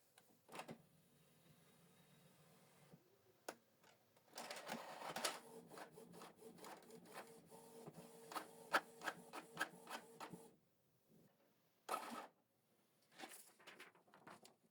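A Canon PIXMA MG2450 inkjet printer whirs and clicks through a test page: short mechanical bursts, rhythmic carriage passes and feed noises, then pauses in a quiet room.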